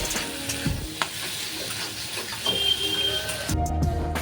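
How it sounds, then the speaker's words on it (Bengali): Steady sizzling of okra and other vegetables frying in a little oil, with occasional stirring clatters and a louder burst near the end. "সামান্য তেল দিয়ে ভালো করে ভেজে নেব"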